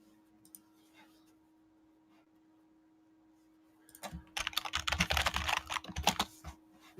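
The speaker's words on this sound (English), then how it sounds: "That's a loud keyboard, Drados." Loud, rapid typing on a computer keyboard bursts in after a few seconds of quiet hum, a dense flurry of hard clicks and clacks close to the mic during a live stock-trading session.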